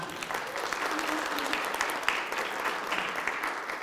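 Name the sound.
audience applause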